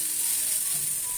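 A mixture fries in a pan, giving a steady, loud, close sizzle that holds evenly throughout with no voices.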